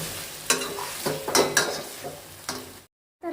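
Spicy chicken with tomatoes fries over a low flame, a soft sizzle broken by several sharp spoon scrapes and clinks against the pan, close, before a short silence near the end.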